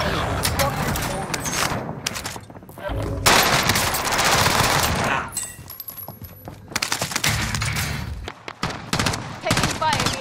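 Rapid gunfire in a multiplayer shooter video game, dense bursts of shots crackling in waves across the whole stretch, with players talking over the action.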